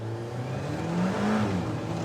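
A car in race mode with traction control off pulls away from a launch control start, carrying two people with the AC on, its engine a loud steady drone that climbs gradually in pitch as it gathers speed, with no talk.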